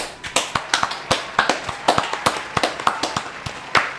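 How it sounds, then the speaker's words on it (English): A small group claps along in an irregular rhythm, sharp close hand claps repeating quickly over several seconds with no talking. "let's clap to that right there"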